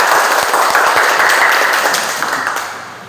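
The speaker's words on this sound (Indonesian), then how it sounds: "tepuk tangan juga untuk kelompok 1" A classroom of students claps for group 1 after an automotive CVT transmission lesson, loud close-up applause with some individual sharp claps standing out, steady at first and tapering off near the end.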